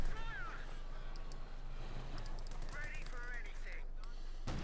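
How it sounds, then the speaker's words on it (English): Bren light machine guns firing in the World War II strategy game Company of Heroes 2, heard as steady battlefield gunfire under continuous commentary. "bringing up there the Bren light machine guns to support his troops"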